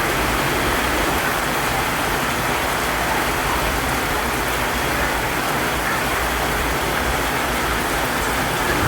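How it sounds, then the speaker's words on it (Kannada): Steady rain pouring outdoors in a natural setting, a dense, continuous hiss at constant loudness throughout, with no voices. "ಈ ಮಳೆ ಬರುವಾಗ ಉಂಟಲ್ಲ ಮಳೆಯ ಸೌಂಡ್ ಉಂಟಲ್ಲ ಅದು ಕಿವಿಗೆ ಕೇಳುವುದೇ ಒಂಥರ ಹಿತಕರ ಎನಿಸ್ತದೆ"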